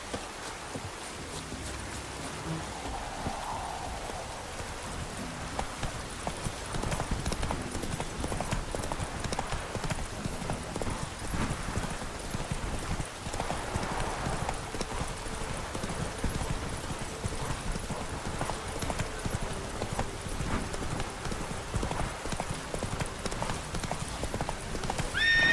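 Hooves of Roach, the horse in The Witcher 3, beat in a fast continuous gallop, loud and close, with occasional snorts over a rushing background.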